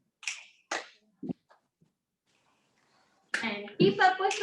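Several sharp finger snaps and a hand clap ring out in a quiet room during an exercise class for people with Parkinson's, followed by a person speaking.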